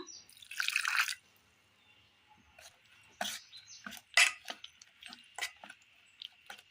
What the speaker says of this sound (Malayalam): അല്പം വെള്ളം കൂടി ഒഴിച്ചു കൊടുക്കുക